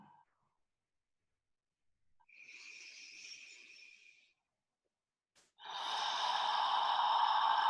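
A person breathes out slowly and deeply twice, each a soft, airy rush close to the mic, separated by silence, the second exhale louder and fuller.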